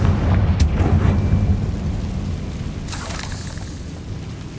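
Confringo fire spell blasting in Hogwarts Legacy, a deep booming explosion with rumbling low end that swells early and slowly fades, a brief crackling burst near the end, no talking.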